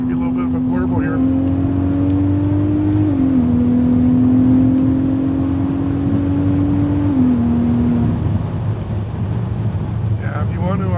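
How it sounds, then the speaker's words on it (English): A VW Golf MK5 R32 turbo with a 7-speed gearbox, driven in Vancouver, gives a steady low exhaust burble and drone from inside the cabin, pitch shifting slightly as revs change, with a voice speaking over it. "Give you a little bit of a blurble here."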